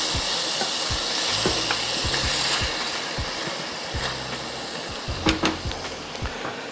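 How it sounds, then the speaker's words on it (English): Diced onion and thinly shaved garlic fry in melted butter as they are stirred around a pan, a dense continuous sizzle with scraping and knocking from the utensil, close and loud with no voices. "The next guest to arrive to the party is the diced onion and the thinly shaved garlic. Go ahead and move that around in that butter."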